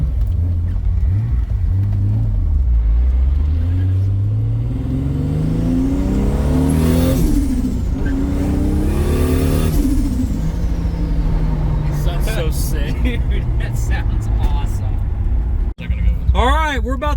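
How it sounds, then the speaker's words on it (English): Modified 1,000-horsepower factory Toyota Supra with a T51R turbo revving hard, engine pitch sweeping up and down with turbo flutter chatter, loud and close with no speech over it. "We got a T51R mod sound with a turbo flutter."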